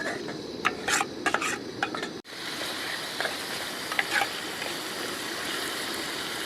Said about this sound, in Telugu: మన ఉల్లిపాయ పేస్ట్ అయితే మంచిగా మరుగుతుంది ఇప్పుడు.